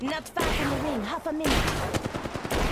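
Rapid gunfire in an Apex Legends endgame, loud, close bursts of shots in the latter half, with a voice talking over the first part.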